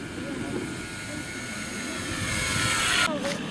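A model airplane's small engine whines steadily in the distance as it flies, over outdoor background noise and scattered voices, its pitch rising slightly near the end.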